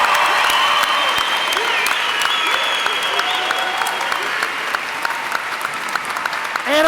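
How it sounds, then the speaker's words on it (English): Sustained applause from a graduation audience of the class of 2006, dense steady clapping throughout at even loudness, with scattered cheers and no clear speech. "We got to give you a round of applause."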